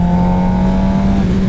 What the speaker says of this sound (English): roll on, get higher in your RPMs, let off for just a second, and then throttle back on really quick